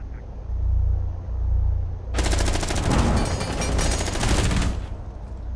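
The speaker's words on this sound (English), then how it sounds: "they're shooting from the hatch" Rainbow Six Siege gunfire from a hatch above a window comes as a dense, rapid burst of automatic shots lasting a few seconds over a low game rumble, then cuts off abruptly.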